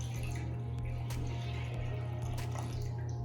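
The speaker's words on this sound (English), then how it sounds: "Let's pour it into the pot." Milk being poured into a cooking pot while making banana pudding, a steady close liquid trickle and splash over a constant low kitchen hum, with no talking.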